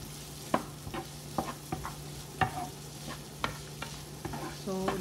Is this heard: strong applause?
no